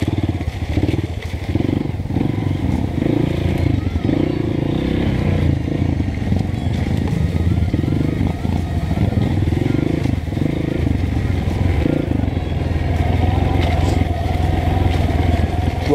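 Honda CRF 230 trail motorcycle rolling downhill on engine braking along a dirt trail, its engine note steady and loud with low burbling and clattering throughout, close to the rider.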